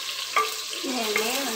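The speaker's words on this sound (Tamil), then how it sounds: "இதே வெங்காயம் பாதி பொரிஞ்ச பிறகு நான் தக்காளி சேர்த்துக்க போகிறேன்." Onions frying in a pan for Chettinad-style chicken curry, a steady close sizzle with a couple of light utensil scrapes, no voices.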